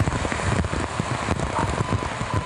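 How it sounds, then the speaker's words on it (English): Heavy rain from a storm over the Toronto area at rush hour, a dense constant hiss and patter of drops on hard surfaces, loud and close, with no voices. "The rain came hard, hitting the Toronto area in rush hour"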